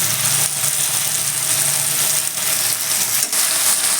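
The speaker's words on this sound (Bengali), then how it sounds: "এবার আমি এই সর্ষে পোস্তে বাটাটা দিয়ে দিচ্ছি" Mustard and poppy seed paste hits a curry of drumstick stalks in a hot pan, giving a steady, loud sizzle with a few faint scraping stirs.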